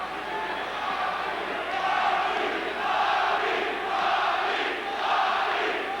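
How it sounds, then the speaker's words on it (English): A boxing crowd at the Bobby Chacon vs Rafael Limon fight chants and roars, a steady, swelling wall of voices rising and falling in waves over several seconds. "crowd is chanting Bobby"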